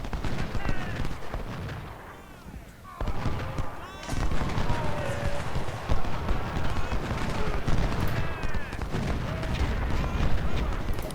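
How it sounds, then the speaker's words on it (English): Video game Civil War battle with 20-pounder artillery guns firing alongside dense crackling musket volleys and booms, a continuous loud din of repeated shots while someone talks over it. "Our 20-pounders are opening up."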